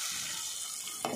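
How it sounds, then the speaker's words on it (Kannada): A cup of water is poured into a pan of simmering egg green masala gravy, a steady hissing sizzle ending in a short, sudden splash as the liquid hits the hot pan. "ಯಾನು 1 ಕಪ್ಪುಡು ನೆಕ್ ನೀರ್ಲ ಪಾಡೊಂದುಲ್ಲೆ."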